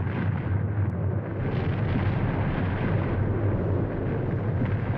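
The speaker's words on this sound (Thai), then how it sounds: "มันเป็นเสียงของเขาพักทูระเบิด" Deep, continuous roar of the Mount Paektu volcano erupting, a dense rumbling wall of low noise that stays loud and steady throughout with no voices.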